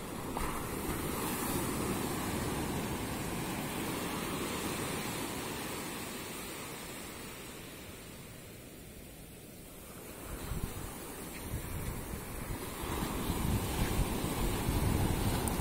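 Ocean waves on Calangute Beach in Goa make a steady, soft wash of surf mixed with gusting wind buffeting the microphone. The sound swells and dips slightly over time, fairly faint and with no talking.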